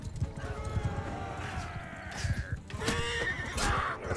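Horse hooves gallop in a steady clip-clop rhythm during a medieval battle in the game Mount & Blade 2: Bannerlord, with neighing and clashing battle sounds layered over the running beat.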